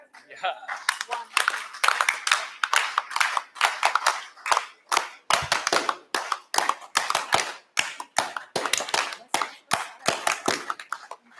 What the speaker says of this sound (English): we wanted to give a round of applause to all the faculty members